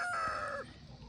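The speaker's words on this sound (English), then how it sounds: "I have chickens out everywhere." A rooster's crow trails off at close range, followed by faint low clucking from chickens in the background.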